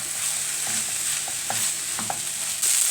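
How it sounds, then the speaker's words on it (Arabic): Freekeh sizzling and frying in a hot pan, a steady hiss with faint stirring scrapes and light crackles. "سمع صوت الطشطشه كده"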